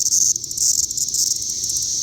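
Cicadas swarming around a Volvo VNL780 semi truck give a loud, continuous high buzzing drone, pulsing slightly in intensity, close by and with no talking.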